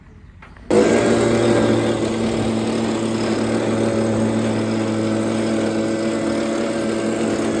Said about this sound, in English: we'll get the leaf blower and we'll just blow this front compartment out